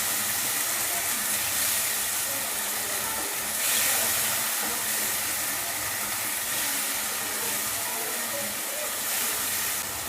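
Tomato paste sizzling in a hot pan for masala pasta gives a steady, close hiss with a crackle running under it, holding even throughout with no voices.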